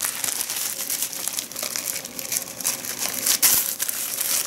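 Small plastic bags of dried soap nuts crinkled close up, a steady run of crackling rustles with a sharper crunch near the end, no talking.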